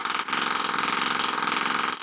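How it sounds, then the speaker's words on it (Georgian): A steady mechanical whir with a fast, even pulsing throb, close and continuous, with a brief dip near the start and end. "წნევა რეგულირდება, მაგრამ ეს ძრავი პულსირებს."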